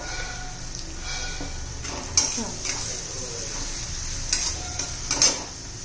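Tomato and onion greens frying in oil for a spicy brinjal bharit, a steady low sizzle with occasional stirring scrapes and soft clinks of a spoon against the pan, close by and without talk.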